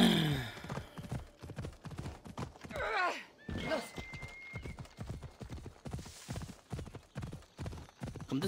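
Horse hooves clip-clop at a steady gallop rhythm throughout in Assassin's Creed Odyssey, close and clear, with a brief whinny partway through.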